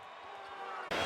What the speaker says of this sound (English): Pepsi Center crowd on its feet.